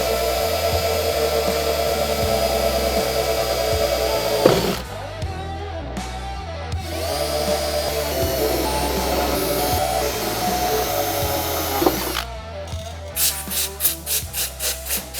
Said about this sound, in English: Now we're back to our 15/64 drill bit.